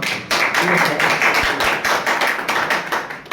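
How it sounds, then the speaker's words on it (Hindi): Dense, loud audience applause fills a mushaira poetry gathering in Hapur as poet Moid Rahbar Lucknowi is welcomed, a steady wash of many hands clapping at once with no break. "एक जोरदार तालियों से खैर मकदम कीजिए मोहित रहबर लखनऊ साहब का।"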